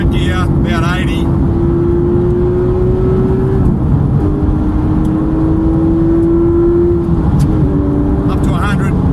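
A Porsche GT3 with a manual gearbox revs up steadily inside the cabin, its engine note climbing, dropping briefly at each gear change, then climbing again, loud and continuous throughout with some talk heard over it.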